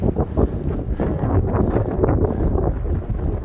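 Strong gusty wind blowing uphill on a Pacific Crest Trail mountain traverse near the Sierra, loudly buffeting the microphone with continuous low rumbling roar.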